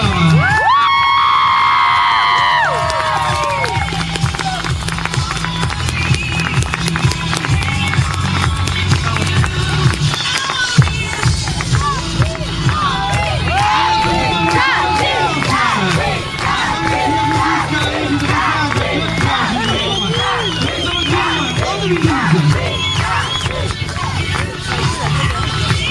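Crowd at a French dressage championship prize-giving (Club 3 Junior), cheering and shouting with high whoops and children's voices over a busy babble and announcer talk throughout.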